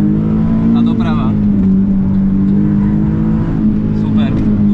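A Nissan 370Z pulls hard through a slalom course, its engine droning loud and steady from up close the whole time, with a short rise in pitch as it accelerates and a voice speaking over it.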